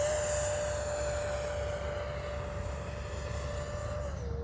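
A Freewing 70mm F9F-5 radio-controlled scale jet with an electric ducted fan flies overhead, a steady whining roar with a sustained tone that dips slightly at the end, continuous and moderately loud, with no one speaking.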